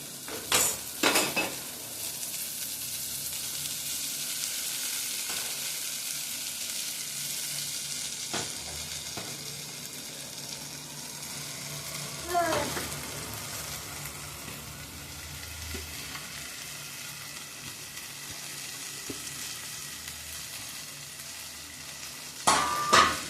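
Steady sizzling of chopped okra frying in a pan, with stirring scrapes throughout and a few sharp utensil clinks near the start and end.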